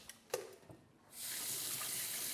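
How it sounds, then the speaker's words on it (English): Tap water starts running into a kitchen sink for handwashing after cracking eggs, a steady hissing stream following a few soft knocks and clatters, moderately close and with no talking. "We're going to make sure we wash our hands after as normal."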